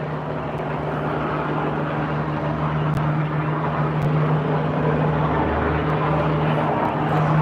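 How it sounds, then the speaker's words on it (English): A helicopter passes low over a city street after a night of looting, a steady droning rotor hum with a low throb that fills the whole stretch, loud and continuous with faint street noise around it. "right now the fucking helicopter sounds like he's insanely low"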